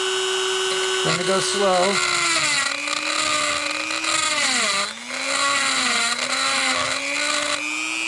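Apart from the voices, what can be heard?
power drill with carbide bit cutting bike frame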